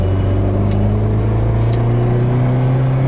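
A Polonez Abimex 1.6 GLI car driving, heard from inside as a loud, steady low engine drone with a constant hum and a couple of brief faint clicks, no talking.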